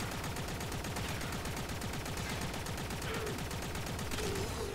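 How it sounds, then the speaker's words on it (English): Rattleguts kitgun, a critical-based build in Warframe, firing against a level 160 gunner: rapid, unbroken automatic fire with dense, evenly spaced shots that stay loud and close for the whole stretch, with no talking. "Took like a little bit over half our magazine to kill that level 160 gunner."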